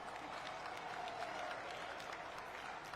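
Crowd applause after a point at a professional pickleball doubles match at the Detroit Open, a steady, fairly faint wash of clapping from the stands lasting a few seconds.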